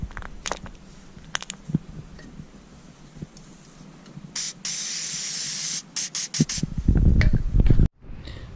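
Cleaner is sprayed from an aerosol can onto a new Kawasaki brake master cylinder in several short hissing bursts, then one longer, louder spray, each burst close and sharp, followed by silence at the end.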